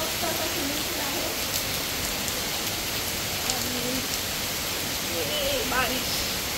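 Steady rain pours beside a hotel swimming pool in Goa, a dense, even wash of drops on water and hard surfaces, with faint muffled voices in the background.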